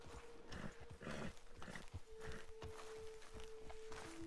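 A horse walks at a steady pace in Red Dead Redemption 2 on a farm homestead, soft rhythmic hoof clops close by with faint ambient background and no talking.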